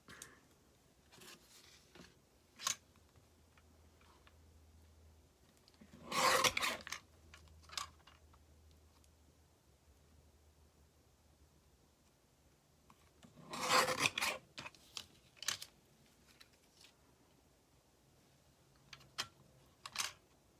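Scissors cut paper strips for card making, with soft crisp snips and rasping rustles in two longer bursts and scattered small clicks, close and quiet in an otherwise still room.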